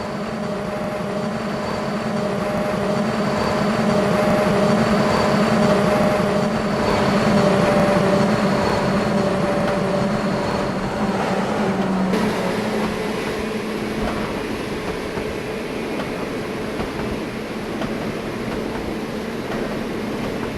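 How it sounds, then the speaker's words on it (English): A train emerges from a portal in Trainz 2019, a continuous rumbling drone with a low engine hum that holds steady, then eases slightly partway through. "let's see if this train can even come out the portal without derailing"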